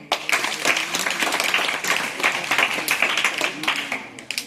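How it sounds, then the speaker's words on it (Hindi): An audience claps at a student poetry gathering at a high school in Jehanabad, India, with distinct, fairly close individual claps forming a lively, uneven round. "अच्छा लगे तो हमें ताली बजाकर गौरवान्वित करें"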